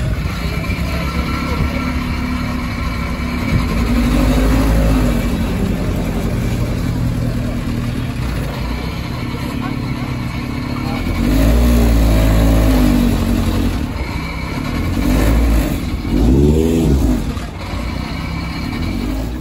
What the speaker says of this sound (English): E92 M3 V8 here.